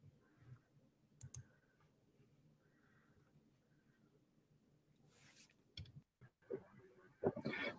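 Scattered keyboard clicks and taps come in short irregular bursts, quiet and close over a faint low hum, growing busier and louder near the end; no talking.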